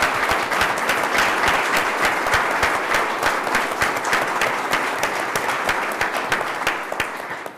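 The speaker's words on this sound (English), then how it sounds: "please give me a round of applause for everybody that's in attendance for those accolades" A seated audience at a Board of Trustees meeting gives sustained, steady applause for attendees' accolades, a dense wash of many hands clapping evenly at close range for the whole stretch, tapering slightly at the end.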